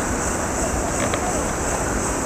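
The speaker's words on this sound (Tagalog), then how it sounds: "may ingay yung alon ng dagat." Sea waves washing on a shore near a resort, a loud steady roar of surf mixed with wind noise on the microphone.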